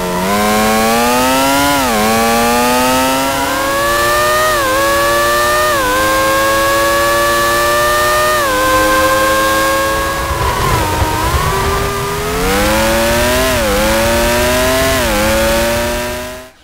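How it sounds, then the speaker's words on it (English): High-pitched Formula 1 engine from a PS2 racing game, revving through repeated upshifts with rising and falling harmonic whines, loud and continuous with no voices. "the EA Formula 1 game had a realistic cockpit sound and an exterior sound."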